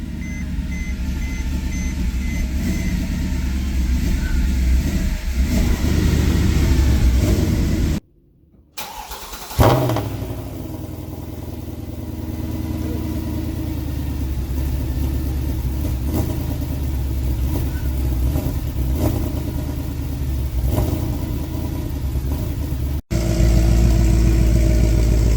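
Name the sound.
Mercedes E63 AMG M156 V8 engine revving with new headers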